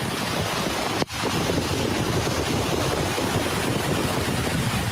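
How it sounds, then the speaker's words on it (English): Floodwater rushes through Death Valley during a storm, a steady loud broadband roar with wind buffeting the microphone and one brief dropout partway through. "that's the sound of water flowing in Death Valley"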